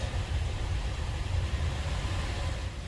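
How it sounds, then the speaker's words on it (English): Honda Pilot 3.5L engine held at a steady 1500 RPM during coolant air purging, a continuous low, even engine drone with no breaks and no talk over it. "we're gonna have to hold the RPM to 1500 till the rad fan is start kicking in"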